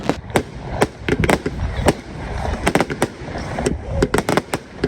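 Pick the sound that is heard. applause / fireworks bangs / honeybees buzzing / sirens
fireworks bangs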